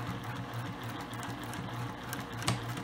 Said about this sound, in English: Okay, back stitch and sew over. Now back again,